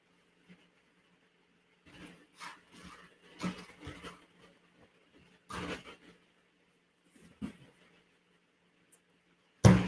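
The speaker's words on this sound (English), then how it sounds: "how loud the card shuffling is" Tarot cards are shuffled by hand in quiet bursts of riffling and soft slapping, several short scratchy clusters with pauses between, close and faint, ending with a sharp knock.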